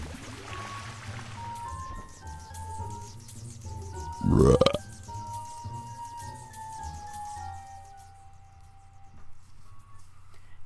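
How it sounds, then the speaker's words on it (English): A character named Grimm burps in the video game American McGee's Grimm: one loud, rough belch of about half a second, standing out over music and game sounds. "that burp was actually Grimm, not me"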